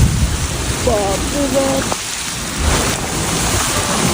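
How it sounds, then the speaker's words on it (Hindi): Heavy rain pours steadily with a deep thunder rumble during a storm over flooded streets, loud and continuous, while a woman briefly exclaims over it. "बारिश हो रही है"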